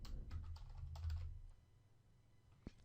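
Fingers type a folder name on a computer keyboard in a short, quiet burst of close key clicks, then a pause and one final tap.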